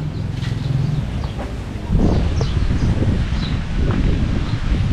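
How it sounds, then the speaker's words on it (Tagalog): Steady wind buffets and roars outdoors, rumbling against the microphone, with leaves rustling and faint birds calling in the background. "Kalakas ang hangin nga naman."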